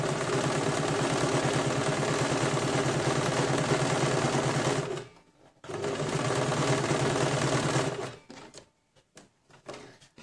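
A sewing machine stitches patchwork for an eight-pattern quilted napkin in a fast, even mechanical chatter. It runs for about five seconds, pauses briefly, restarts for a few more seconds and then stops, leaving a few soft handling sounds.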